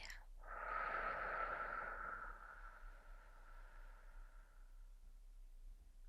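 A single slow exhalation during a guided breathing exercise, a soft airy breath that swells in the first second or two and then fades gradually into quiet hiss.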